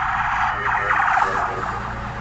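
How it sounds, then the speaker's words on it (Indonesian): An ambulance siren wails, sweeping up and down over steady traffic rumble in southern Gaza, loud and close as it goes by. "ini ambulan nih."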